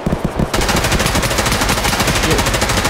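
Rapid automatic gunfire in the video game Escape From Tarkov bursts in abruptly and keeps hammering loudly and densely during an indoor hallway fight.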